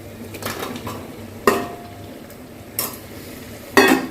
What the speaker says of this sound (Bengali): এবারে এর মধ্যে আমি দিয়ে দেবো আলুগুলো